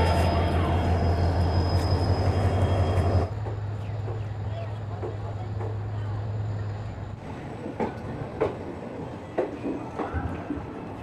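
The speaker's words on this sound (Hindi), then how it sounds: "तो दोस्तों 5 मिनट यहाँ पर रुकने के बाद ये ट्रेन जो है यहाँ से निकल चुकी है।" Jodhpur-Jammu Tawi Express departing Suratgarh Junction, a loud steady rumble of the moving train with a low engine hum that drops after a few seconds, then rhythmic clacking of wheels over rail joints continuing near.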